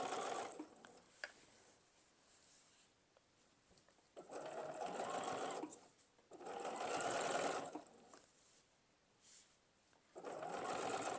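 A sewing machine stitches binding onto a quilt in several separate bursts of fast, even whirring, with short quiet pauses between runs, close and clear.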